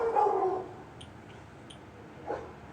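Dogs, one of them black, give a short whimpering bark, followed by a faint yelp or two in a quiet room.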